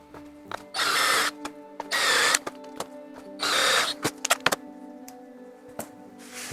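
An electric hand drill starts holes in a guitar neck with three short bursts of whining spin, each about a second long, separated by clicks and small handling knocks, close and loud with no talk.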